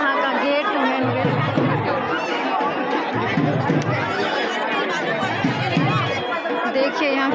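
Dense crowd chatter at the main gate of Dwarkadhish temple, a loud continuous babble of many overlapping voices close by, with occasional laughter mixed in.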